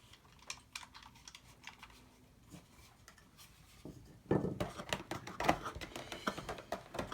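Clicky buttons on an unboxed game controller are pressed in quick, light taps, faint and close, with a denser burst of clicks toward the end.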